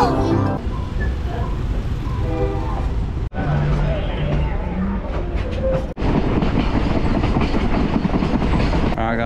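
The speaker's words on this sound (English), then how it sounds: "we just got off the train" A train near Lake Titicaca rumbles steadily along the rails with rhythmic clatter and a broad roar, voices murmuring faintly beneath the noise.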